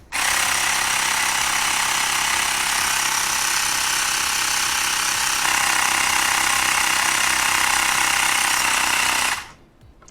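A Toursor E8 Pro portable tire inflator pumps air into a tire with a loud, steady mechanical buzzing rattle that runs continuously, then cuts off abruptly near the end.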